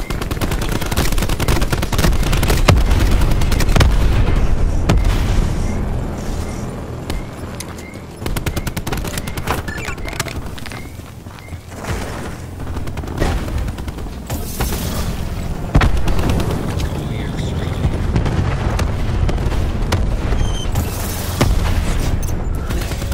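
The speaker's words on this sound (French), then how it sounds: "Tire de machine de guerre." Rapid grenade-launcher fire from the War Machine in Call of Duty Black Ops 4 on the Jungle map, with dense machine-gun-like bursts and heavy booming explosions that continue loudly and almost without pause throughout.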